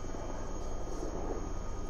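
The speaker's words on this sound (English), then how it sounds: "there's a helicopter" Helicopter flying overhead outdoors, a steady low distant drone and rumble that holds evenly throughout with no talking.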